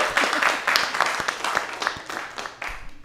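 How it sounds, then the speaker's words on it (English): Audience applause at a live Web3 art and tech event in Venice Beach, California: dense, steady clapping from a crowd, close and fairly loud, filling the whole stretch. "Give him a round of applause."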